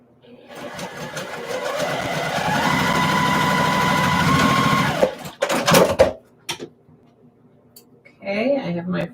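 Sewing machine stitching quilt blocks together, a steady fast whirring run of several seconds that stops abruptly, followed by a few short clicks and handling noises, with a voice speaking near the end.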